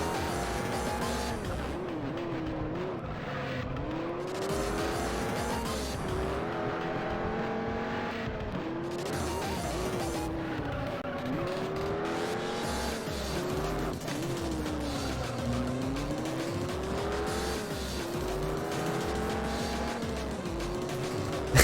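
Race car in the video game Juiced, its engine revving steadily through gear shifts with rising and falling pitch sweeps, loud and continuous, with occasional tire squeal and no voices.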